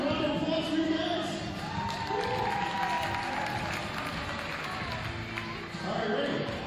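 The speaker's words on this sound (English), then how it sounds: "Round of applause for you guys." Applause and cheering fill a high school gym at a girls' varsity basketball game, with crowd noise and clapping running steadily under voices and talk.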